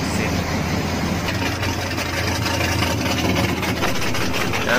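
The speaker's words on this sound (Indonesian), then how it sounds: "Ini merkuri 600 bawah ya. Satu mesin." A Mercury 600 outboard boat engine idles in a steady, unbroken low rumble with a rough, vibrating texture, close and fairly loud, with no talk.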